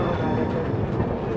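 A train, the Yesvantpur Toofan Duronto Express, rolls slowly through New Delhi railway station on a foggy winter day, making a steady, dense rumble and clatter heard from on board without pause.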